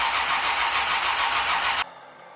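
A Triumph TR4 engine cranks and catches, running with a steady, roaring hum before cutting off abruptly near the end, close and loud.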